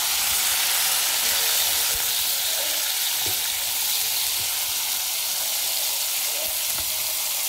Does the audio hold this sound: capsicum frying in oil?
yes